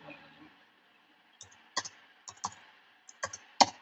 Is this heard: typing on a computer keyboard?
yes